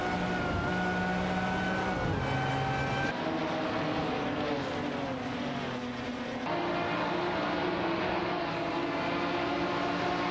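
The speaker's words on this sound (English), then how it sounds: "epic AI car racing action" Several AI-driven race cars roar in a racing video game, their engines droning and shifting pitch continuously and loudly throughout, layered with game sounds and no talking.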